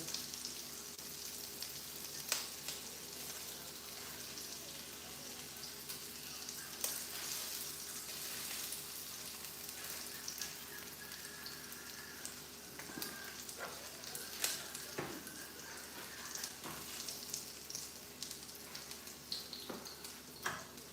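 Bacon and sausages fry gently over low heat in a pan, giving a steady, faint crackling sizzle that runs on without pause, with small pops scattered throughout.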